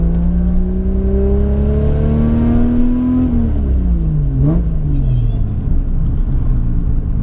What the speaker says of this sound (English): Oh, like I can hear that turbo spool down